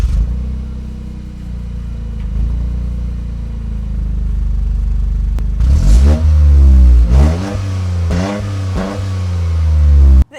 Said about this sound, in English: It has the perfect exhaust character for a car like this, I think.